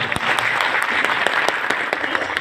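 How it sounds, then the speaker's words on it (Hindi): An audience at a marketing seminar in Deoghar claps loudly and steadily, dense crowd applause with sharp individual claps standing out, no speech over it. "मैं चाहता हूं इन सबके लिए एक बार जोरदार तालियां हो जाए"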